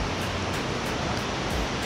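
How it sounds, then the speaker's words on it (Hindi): A mountain river rushes below the trail near Tosh village in Himachal Pradesh, a loud, unbroken roar of flowing water with no voices over it. "तो पानी की आवाज़ तो आपको शायद आ ही दी होगी नीचे से."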